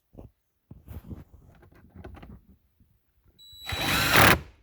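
Power drill driving a screw while a steering column is fitted on a 2015 Ford Fusion, a loud close whirring burst near the end after a stretch of quiet clicks and handling noises.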